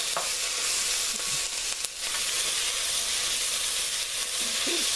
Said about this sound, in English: And so now I'll go ahead and add the garlic in. I'll let that cook for another minute or so.